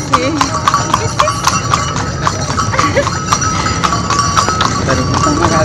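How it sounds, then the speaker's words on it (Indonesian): Horse hooves clip-clop steadily on pavement during a horse ride around the town of Cepu, with regular close, bright strikes running throughout and people talking over the ride. "Kita lagi naik kuda nih, mau puter-puter kota Cepu."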